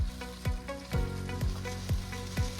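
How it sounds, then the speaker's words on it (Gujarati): Hot oil sizzles in a village cooking pot as cumin, cinnamon and other spices are tempered, with a steady frying hiss broken by regular stirring scrapes about every half second. "ચાલુ કરી દીધું છે હવે વઘારવાનું."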